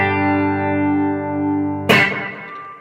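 B-bender electric guitar playing a pedal steel style lick in G: a long sustained chord rings through an effects unit with chorus, then a fresh bright attack near the end with a smeared, echoing decay.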